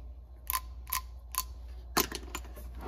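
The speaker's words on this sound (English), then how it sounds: "It's a ratcheting bit driver. And just flip that switch around." A ratcheting bit driver's direction switch is flipped and worked, giving several short, sharp mechanical clicks spaced irregularly and close by, with quiet between them.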